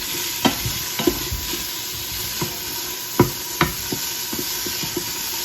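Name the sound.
sauteing frozen vegetables in an Instant Pot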